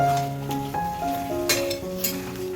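Yogurt-coated chicken being stirred as it fries in mustard oil, a steady close sizzle with scraping spoon strokes against the pan throughout.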